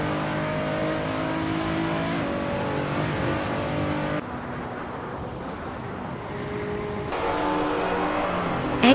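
A 2016 Hyundai Elantra race car engine in a racing video game drones steadily at high revs, shifting pitch a couple of times as it accelerates, loud and continuous with no talk.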